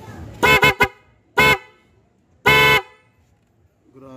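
A G-Star vehicle air horn sounds loudly four times: a quick double blast, one short toot, then a longer sustained blast, each bright and harmonic with quiet gaps between.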